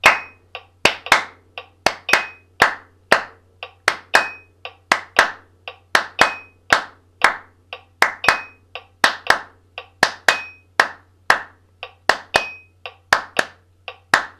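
Rhythmic hand clapping during a music warm-up exercise, crisp close claps in a steady repeating pattern over a faint low drone, continuing alone for the whole stretch without talk.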